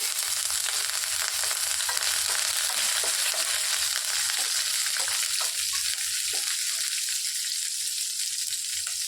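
Urad dal, cumin seeds and chili frying in hot oil give a continuous close sizzle with small crackling pops scattered through it, steady and moderately loud, no voices.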